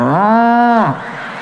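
A human voice imitates a cow, giving one long, loud, drawn-out moo that drops in pitch at the end.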